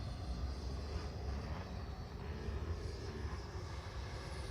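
An FMS Avanti 90mm EDF radio-controlled jet flies past with a steady, broad whooshing ducted-fan roar that holds at a moderate distance throughout.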